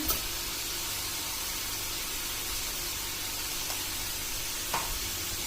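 Sliced onions sizzle steadily in a hot pan for onion gojju, with salt just added: an even, close frying hiss at low volume, broken by a few faint clicks and no voices.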